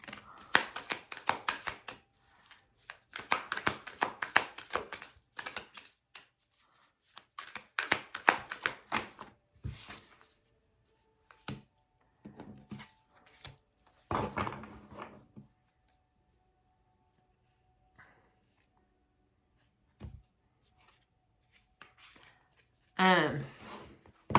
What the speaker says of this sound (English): but they are really hard to shuffle.